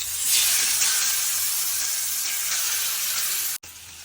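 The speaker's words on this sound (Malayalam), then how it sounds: "ഇനി നമുക്ക് മീൻ പൊരിക്കാൻ വെക്കാം" Masala-coated fish frying in a pan, a continuous bright sizzle and hiss that holds steady throughout, ending in a brief sharp click.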